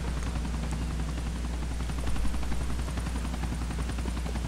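Steady helicopter rotor drone in Grand Theft Auto with a rapid thudding pulse, loud and continuous throughout, with faint crackling on top and no talking.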